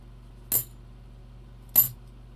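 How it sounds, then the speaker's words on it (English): Clad half dollar coins clink together twice, two short, bright metallic clicks about a second apart against a quiet background. "Listen to the coins."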